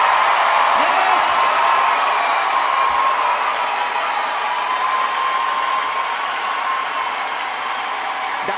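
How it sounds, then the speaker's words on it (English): A large crowd at the 2023 UCLA commencement ceremony claps and cheers loudly, a dense sustained wash of applause with scattered whoops that stays strong and slowly eases over several seconds. "giving them the biggest round of applause you've ever have given to anyone in your life"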